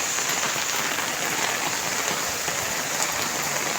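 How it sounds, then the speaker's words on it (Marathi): Steady monsoon rain pours down continuously over a road in Mankhurd, a dense hiss of drops with no voices, constant in level throughout. "रस्ता पूर्ण पाऊस पूर्ण वातावरण आहे पावसाचं"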